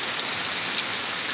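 Steady, dense rain hisses continuously on a surface, loud and close, with no voices.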